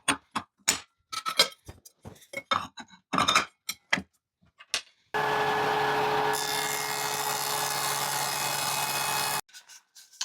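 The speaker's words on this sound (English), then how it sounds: "I'm going to dado a groove around the edge of all these pieces." A router or dado cutter cuts a 3/4 inch deep groove around the edges of wooden pieces for outdoor furniture, a steady loud whine lasting several seconds, preceded by scattered knocks and handling clatter of the boards.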